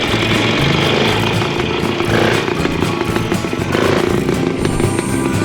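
A loud, buzzing two-stroke WSK motorcycle engine runs steadily close by, its rough droning tone rising and falling slightly as the throttle changes, with no talking.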